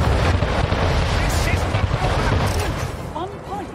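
Naval cannon fire from a warship fleet in the strategy game Anno 1800 forms a loud, dense, continuous rumbling roar of overlapping blasts that eases slightly toward the end.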